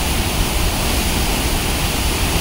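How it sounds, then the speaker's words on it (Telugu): The Arvalem waterfall near Goa in monsoon roars loud and close, a dense, unbroken rush of falling water with no voices. "most beautiful waterfall near Goa."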